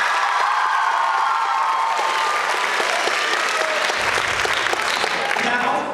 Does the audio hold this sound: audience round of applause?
yes